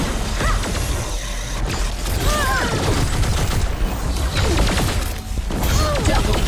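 Rapid bursts of gunfire from Jabali's ultimate in T3 Arena ring out loud and close, layered with clanking mechanical impacts, whooshing effects and dense game noise throughout.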